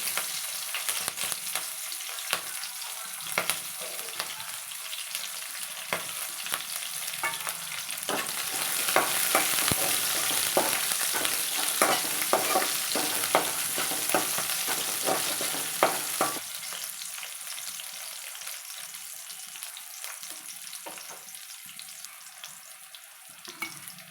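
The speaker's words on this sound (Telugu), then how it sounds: "ఆవాలు కరివేపాకు పచ్చిమిర్చి ఉల్లిగడ్డలు వేసుకోవాలి" Mustard seeds, curry leaves, green chillies and onions frying in hot oil for capsicum rice, a steady close sizzle with crackles and stirring scrapes that swell midway and then settle back down.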